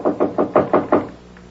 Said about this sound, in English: this guy is on the balcony in front of 2A, banging on the door